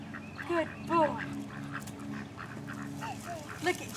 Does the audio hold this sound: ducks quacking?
yes